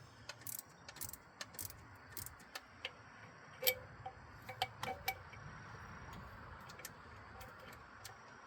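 A driver bit working out bolts, a quiet run of rapid ratcheting ticks and clicks at close range over a low background hum, with no talking.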